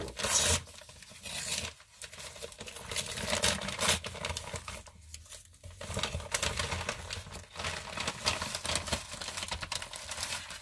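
A mailed envelope is torn open and handled up close, with continuous papery rustling, crinkling and ripping in uneven bursts and no voices.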